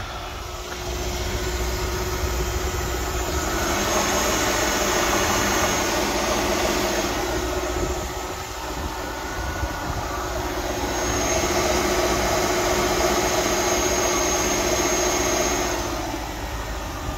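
A Mercedes-Benz S-Class with a 5.5-litre engine idles in a steady, loud, continuous hum with a broad hiss, swelling slightly and easing back over time, with no talking.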